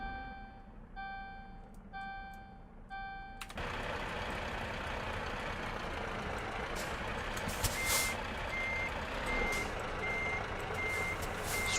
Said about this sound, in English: Oh, brake pressure warning, stop.